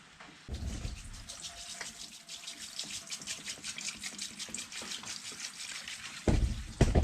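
Water pours steadily into the tank of an ultrasonic cleaner, a continuous splashing gush that runs for several seconds and grows louder near the end.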